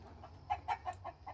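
Chickens cluck in a quick series of short, soft clucks, close by over low background hum.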